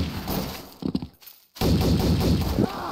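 Pistol gunfire in a Garry's Mod match, sharp shots in a close cluster, then a brief quiet gap before dense continuous firing resumes loudly.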